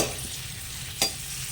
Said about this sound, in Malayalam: ചീനച്ചട്ടിയിൽ രണ്ട് സ്പൂൺ നെയ്യിട്ട് ചൂടാകുമ്പോൾ അതിലേക്ക് കടലപ്പരിപ്പ് ഇട്ട് വറുത്തെടുക്കുക അതിനുശേഷം ഉണക്കമുന്തിരിയും വറുത്തെടുക്കുക